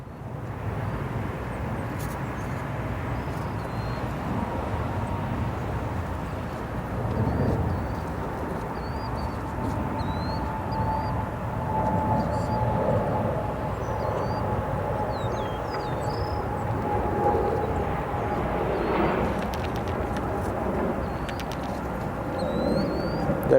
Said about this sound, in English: Reversers and spoilers deployed.